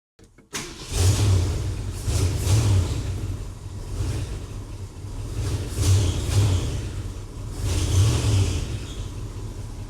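A car engine starts and idles roughly after new plug wires are fitted, with a carburetor that needs rebuilding, its low rumble rising in several uneven revs close by.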